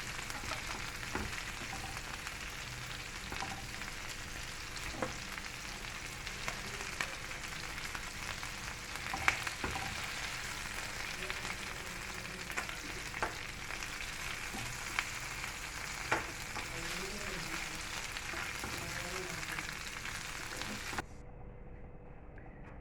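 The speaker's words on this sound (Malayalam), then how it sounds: "ഇനി നമുക്ക് ബാക്കിയുള്ള ചിക്കനും കൂടി ഇട്ട് കൊടുത്ത്" Peri peri chicken fries in a pan with a steady, even sizzle and crackle that runs throughout, punctuated by faint scattered pops and light clinks before it cuts off at the end.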